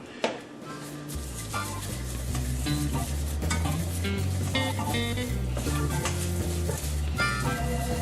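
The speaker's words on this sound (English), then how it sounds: "Whisk the butter down until it's nearly completely melted in the bottom of the pan." Butter sauce whisked in a hot pan while it melts, a steady close scraping and stirring with a light sizzle, continuous and fairly loud with no talk.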